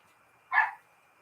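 A rescue dog gives a single short bark at moderate distance, with near silence before and after.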